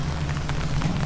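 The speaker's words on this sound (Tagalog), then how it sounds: "Malakas ang ulan." Heavy rain falling at night on Calle Crisologo, a steady dense hiss of drops on the street with a continuous low hum underneath, near and unbroken throughout.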